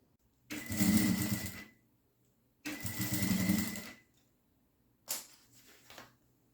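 A sewing machine stitching along the edges of fabric bias binding, two long steady whirring runs and then a shorter burst, close and loud, with no voices.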